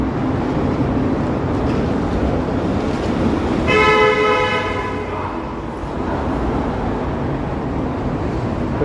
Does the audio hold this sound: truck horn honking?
yes